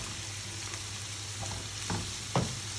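Sliced onion and peppers sautéing in oil for a tuna dish, a continuous close sizzle with a low steady hum beneath and a couple of brief spoon knocks near the end.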